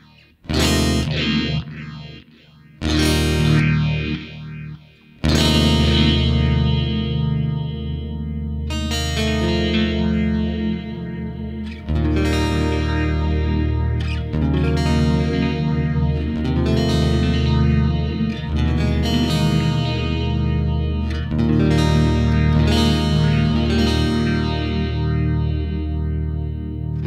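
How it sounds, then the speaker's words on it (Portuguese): Clean electric guitar run through a delay and a phaser, loud chords and picked notes whose repeats swirl and shift in tone as they trail off, played alone with no talking. "para cada repetição de delay eu vou ter um timbre diferente, porque o phaser ele faz um cancelamento de fase randômico"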